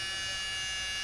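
A small rechargeable rotary tool bought from AliExpress, its motor spinning forward with a steady high-pitched whine and buzz that stays level and unbroken for about a second, close up with no talk.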